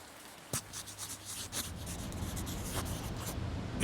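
Pen-on-paper scratching in the Dagon video game, a series of soft rubbing strokes that swell and fade over a low steady hum, fairly close and quiet with no talk.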